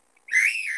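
A single high whistle blast, a signature whistle from a song, starts abruptly after a moment of silence. It holds loud and close until the end.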